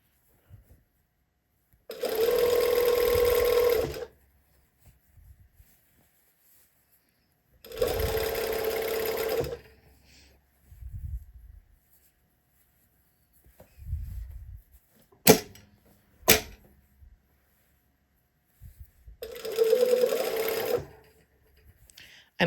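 A sewing machine runs a 1/4 inch seam in three short bursts of rapid stitching, separated by pauses with quiet handling sounds and a couple of sharp clicks.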